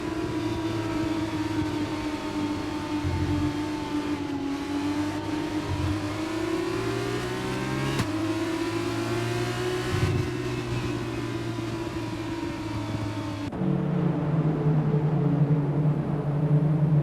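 Formula 2 race car engines in F2 2022 hum and rev on the starting grid at Bahrain, a loud, steady multi-car drone with pitch rising and dipping, then a sharper engine tone near the end.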